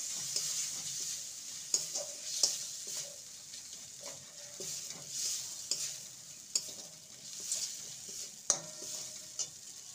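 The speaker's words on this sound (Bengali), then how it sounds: "এবার এটাকে ভালো করে নেড়ে নেব" A semolina snack mixture with cumin and turmeric is stirred in a hot pan: a quiet sizzle runs underneath while the spoon scrapes and taps the pan in irregular strokes, close by.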